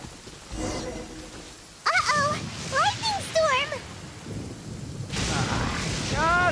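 A thunderstorm with rain rolls through in the Genshin Impact video game, a steady wash of rain with thunder rumbling underneath while a child-like voice talks excitedly over it.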